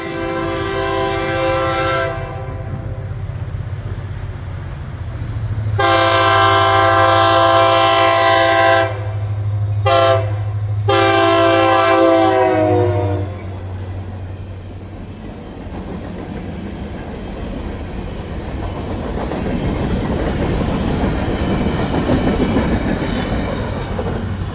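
A train pulls out of a railway siding, sounding several loud, long horn blasts close by over a low rumbling engine, followed by a rushing, rolling wash of cars and wheels as it passes.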